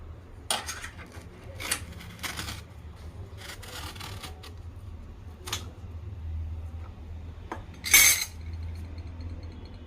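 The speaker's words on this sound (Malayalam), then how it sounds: "ഇനി നമ്മളിതിൻ്റെ ഉൾഭാഗം ഒരു സ്പൂൺ വെച്ചിട്ട് ഇങ്ങനെ ചീവി എടുക്കണം" A spoon scrapes the soft inner pulp out of drumstick (moringa) pods, producing scattered short scraping and clinking sounds close by, with one sharper, louder scrape near the end.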